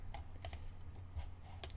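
Someone types on a computer keyboard, a handful of sparse, light key clicks in an uneven rhythm, close but quiet over a low electrical hum, with no voices.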